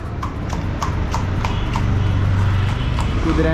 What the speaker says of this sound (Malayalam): നോക്കിയേ ഒരു കുതിരേനെ